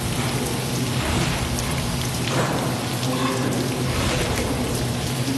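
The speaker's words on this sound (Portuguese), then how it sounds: "O que está entrando no túnel é água do mar." Seawater pours into the Channel Tunnel as a dense, steady roar of rushing and splashing water. It is loud and unbroken throughout, with a faint low hum underneath and no voices.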